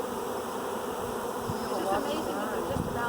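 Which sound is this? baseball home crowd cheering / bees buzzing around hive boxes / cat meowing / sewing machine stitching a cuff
bees buzzing around hive boxes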